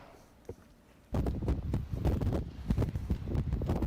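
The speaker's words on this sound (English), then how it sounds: "Yeah, Sarah, as you can probably hear, it's very windy." Strong wind gusts batter a microphone outdoors during a Marquette snowstorm, sudden loud buffeting blasts starting after a quieter moment and continuing in rough, uneven bursts.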